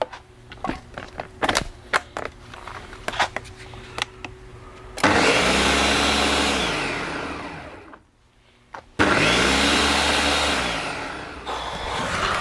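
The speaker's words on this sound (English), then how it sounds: "so I'm going to get it in the blender." A kitchen blender purees warm cooked tomatoes for homemade slow cooker ketchup, running loudly in two long bursts with a brief pause between, after some scattered handling clicks and knocks.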